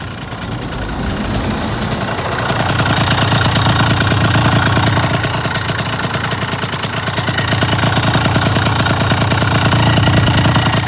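A stage 6 liquid-cooled big-bore two-stroke scooter engine with a custom crank, a Dio/Honda Elite-type motor, runs loud and steady for the whole stretch, a dense buzzing drone that swells slightly partway through.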